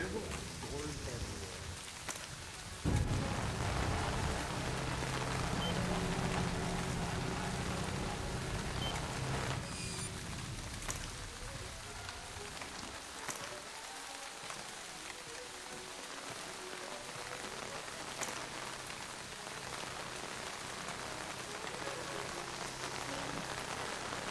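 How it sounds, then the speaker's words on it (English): Steady rain patters on surfaces throughout in the video game Splinter Cell Chaos Theory, with a louder thunder rumble early on that fades into continuous wash; nobody speaks. "it's really raining"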